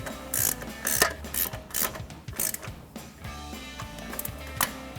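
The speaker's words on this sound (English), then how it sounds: "grab an 18mm ratcheting wrench for your upper control arm ball joint" An 18mm ratcheting wrench turns the upper control arm ball joint nut on a 2007-2016 Chevrolet Silverado 1500, giving close, rapid ratchet clicks in short bursts with brief pauses between strokes.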